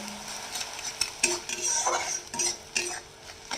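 Eggs being stirred and scrambled in a hot frying pan with salt, turmeric and red chilli powder for an egg-and-okra dish: a steady sizzle under repeated scraping and clinking of the spatula against the pan.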